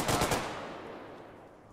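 Close machine-gun bursts in Arma 3, a few quick rapid shots at the start fading into a rolling echo tail.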